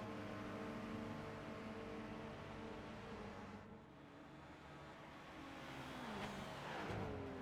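Race car engine in the Gran Turismo 5 video game, a GT500 car drifting around the outside of a corner, with a steady high-revving drone and shifting pitch. Loud and continuous, with a brief dip midway, then a rising rev.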